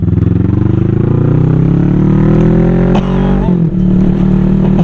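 Kawasaki Vulcan S 2015 full-power motorcycle accelerating up a hill, a loud close engine drone rising steadily in pitch, then a brief dip at a gear change before pulling on again.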